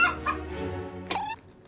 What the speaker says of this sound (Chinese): 打鸣啊，一直打鸣。